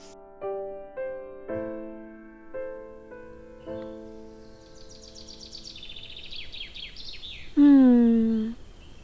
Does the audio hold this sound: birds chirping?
yes